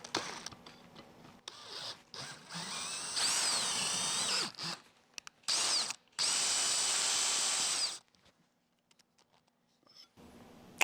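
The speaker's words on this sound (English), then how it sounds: "We gotta plug the front of the galley, and you just drill the hole in." A power drill bores a hole into the front oil gallery of a blown-up 327 engine, in bursts of high whirring of a second or two, with short pauses and a quiet stretch near the end.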